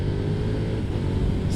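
A 2022 KTM Superduke 1290 R motorcycle engine roars loud and continuous under acceleration on the road, a deep, dense rumble close to the listener with no voices.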